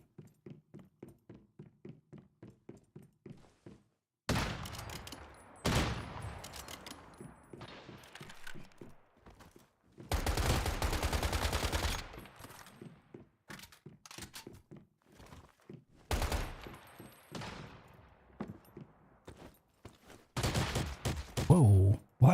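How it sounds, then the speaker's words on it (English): Gunfire in the survival shooter game Once Human, with bursts of rapid automatic fire and heavy thumping shots coming in uneven clusters over quieter stretches of mechanical game sounds. "why is everybody shooting me now?"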